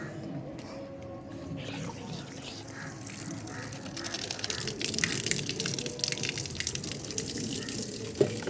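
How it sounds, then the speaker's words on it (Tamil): Running water rinsing out a guppy fish tank, a steady splashing, gushing wash close by with irregular surges and a brief sharp knock near the end. "சரி வாங்க, இப்போ போய் கழுவுவோம்."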